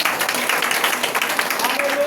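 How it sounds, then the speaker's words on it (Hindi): A church congregation clapping in thanks during a testimony, a brief busy wash of many hands, fairly loud and close, with voices speaking over it. "ताली बजाकर धन्यवाद दें।"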